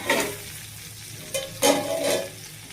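Fenugreek greens go into a frying pan and get stirred, with a soft sizzle and a few scraping bursts of stirring over close, quiet frying.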